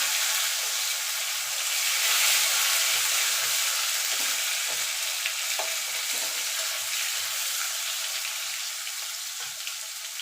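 Okra frying with spices and chopped tomato gives a steady, close crackling sizzle that holds evenly throughout, with faint occasional spatters and no voices.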